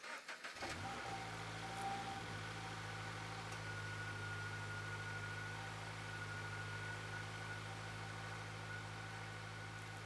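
A Scion FR-S fitted with a Fluidampr crank pulley cranks and fires up right at the start, then settles into a steady, even idle that runs nearby for about nine seconds with no talking.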